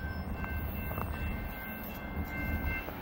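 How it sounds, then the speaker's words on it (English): A steel coil freight train works up a steep grade, a steady low rumble of rolling cars and engine noise holding level throughout, with no talk. "Steel coil train."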